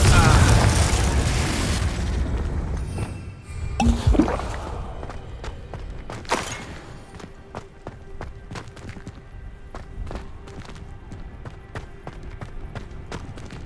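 In Hogwarts Legacy, Confringo spells go off as booming blasts with crackling debris, one big burst near the start and further sharp cracks later, under a steady game background with some voice.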